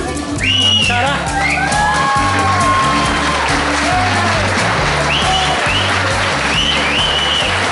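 Loud, dense applause from a crowd at a live music event, with cheers, whoops and whistles mixed in over sustained clapping, while music with a steady repeating low-pitched pattern plays underneath.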